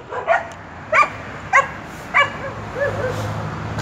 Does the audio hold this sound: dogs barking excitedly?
yes